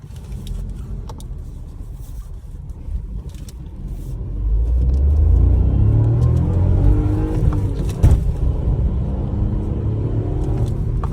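Skoda Kylaq turbo engine on a test drive, heard from inside the cabin: a low steady hum that swells into a louder sustained rumble as revs climb after the lag, with no talk over it.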